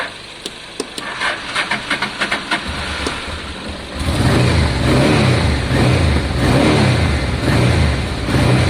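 Honda Deauville motorcycle engine idling at its first start-up after a carburettor clean, first a few sputtering catches and pops, then settling into a loud, steady, close idle with a slightly uneven beat.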